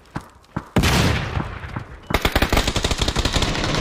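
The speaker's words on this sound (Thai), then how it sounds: "มีคนยิงมา" Gunfire in the video game PUBG: a few single shots, then a loud blast followed by a rapid automatic burst of close repeated shots.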